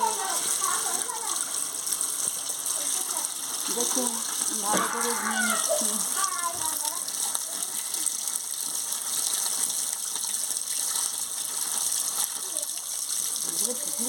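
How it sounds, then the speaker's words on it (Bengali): Small bhatua fish are washed under running water, giving a steady gushing splash with faint clatter throughout, while someone speaks quietly. "ভালো করে ধুয়ে নিচ্ছি"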